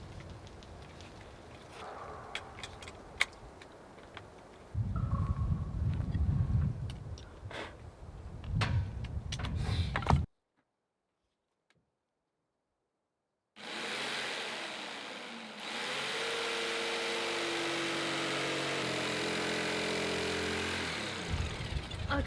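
Jigsaw fitted with a replacement blade from an older saw, cutting through wood on a rotten porch: a steady close buzzing saw drone that starts after a pause and runs continuously, preceded by earlier bursts of handling noise and motor revving.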